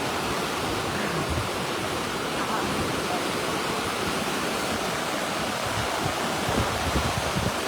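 Floodwater rushing under Tubod Bridge in Mahayahay, a dense, steady roar of fast-moving water that fills the whole scene, loud and unbroken with no voices on top.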